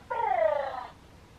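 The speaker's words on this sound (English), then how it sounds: "So pet her head front to back, and she purrs." Mattel Lil' Gleemerz toy cat purring when its head is petted, a short loud harmonic purr-like sound lasting under a second, heard alone.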